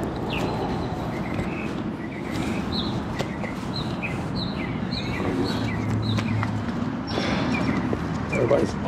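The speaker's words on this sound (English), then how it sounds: "You hear them singing." Outdoor birdsong on a spring morning at the start line of a Trek century bike ride in Texas: scattered short chirps and tweets, moderately distant, beneath nearby talking and general crowd bustle.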